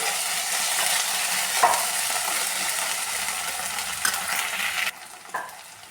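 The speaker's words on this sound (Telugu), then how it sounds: "కొంచెం అల్లం వెల్లుల్లి పేస్ట్ ఇచ్చి కాసేపు ఇలా ఫ్రై చేసుకోవాలండి" Onion frying in a pan with ginger garlic paste, a steady sizzle and stirring scrape running throughout with a few clinks, close and alone without talk.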